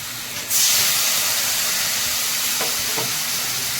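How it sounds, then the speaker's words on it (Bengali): Spices for a katla fish head curry fry in a pan, bursting into a loud, close hiss after a brief quieter start and then holding a steady, intense sizzle to the end. "এবার আমি ভালো করে ভেজে নেব ভালো করে কষিয়ে নেবো"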